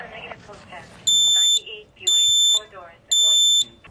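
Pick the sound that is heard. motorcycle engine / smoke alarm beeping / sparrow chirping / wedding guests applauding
smoke alarm beeping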